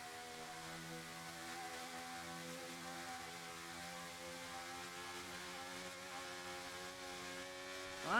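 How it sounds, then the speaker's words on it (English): A race car engine in a racing video game that runs unhealthily holds a droning, harmonic tone with a rough edge at steady pitch, faint and continuous, ending in a sudden louder burst. "That engine doesn't sound very healthy."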